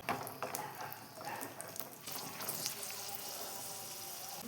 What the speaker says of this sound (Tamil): முந்திரி திராட்சையை நல்லா இப்படி வறுத்துக்கலாம்.